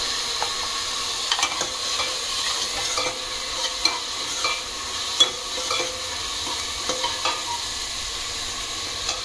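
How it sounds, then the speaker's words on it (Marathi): Mixed vegetables being sautéed over a high gas flame, including capsicum, tomato, beans, carrot and spring onion: a steady close sizzle and hiss with repeated scraping stirs of a spatula, no voices. "गॅस थोडा मोठाच ठेवायचा, छान परतली जाईल म्हणजे।"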